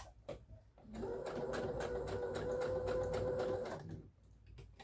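A sewing machine runs steadily for about three seconds while stitching the elastic waistband of pyjama pants, close and fairly quiet, with a few light clicks of handling before and after the run.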